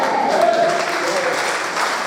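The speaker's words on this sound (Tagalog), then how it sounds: "Halata po ang inyong mga palakpak sa Panginoon." A congregation applauds at a Friday fellowship of an El Shaddai chapter in Kuwait, a brief, steady, even wash of many hands clapping together.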